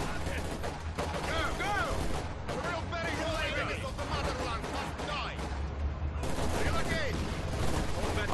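Dense, constant gunfire and explosions from the game Company of Heroes 2 rumble throughout, with rapid bursts layered under frantic voices shouting over the action.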